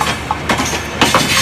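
A train on a railway line, heard as a loud, continuous rumble with rhythmic clattering bursts from the wheels, close by.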